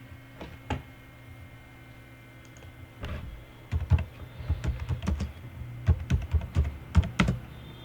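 Someone types on a computer keyboard in a PowerPoint session, first in a few scattered taps, then in quicker bursts of close, crisp keystrokes.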